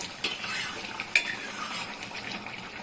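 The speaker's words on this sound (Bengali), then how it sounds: "ঝোলটা দেখুন টকবকিয়ে ফুটছে সুন্দর করে" Soybean and potato curry broth bubbles in a pot with a soft, continuous simmer, broken by a few sharp clinks of a spoon against the pot.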